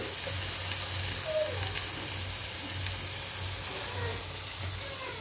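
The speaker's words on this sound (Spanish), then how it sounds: "le voy a agregar un poquito de aceite, un poquito nada más de aceite, ¿verdad? Ahorita le voy a dejar caer la cebolla y el tomate." Onion and tomato sizzling in a little hot oil, a continuous crackling hiss with a low pulsing hum beneath, steady and close.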